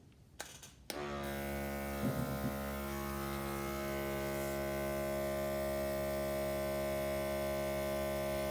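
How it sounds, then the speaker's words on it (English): An airbrush spraying blue and purple paint: after a click, a steady hiss of air and a low electric hum run on evenly and close, with no talking. "here comes the airbrush"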